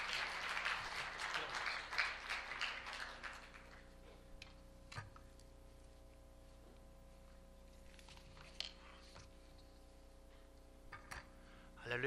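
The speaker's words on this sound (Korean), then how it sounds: "우리 이 시간 우리 박수로 우리 목사님 우리 환영하도록 하겠습니다." A church congregation claps together to welcome the pastor at a Sunday afternoon praise service: a dense burst of applause for about three seconds that quickly thins out and fades, leaving a quiet room with a few faint ticks.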